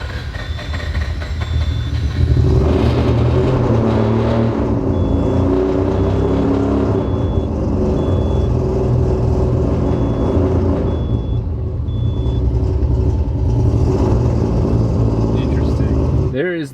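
A 1000 hp engine runs lean and rumbles loudly up close, with a broad, rough roar that swells during a short rev and then keeps up a steady, uneven drone. Someone speaks over it.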